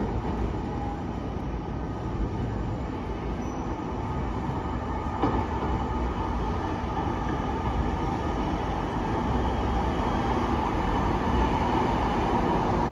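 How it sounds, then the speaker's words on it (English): A second-generation Siemens S70 light rail train on the Minneapolis Metro Blue Line runs steadily, with a continuous low rumble and wheel noise at an even, fairly loud level throughout, no voices. "I got a second generation train, which is a Siemens S70 model."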